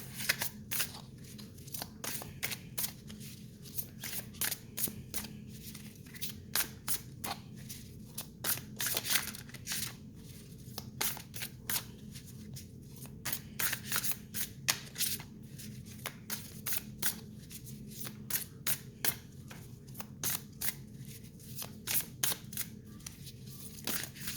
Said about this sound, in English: So I'm just going to go ahead and shuffle some cards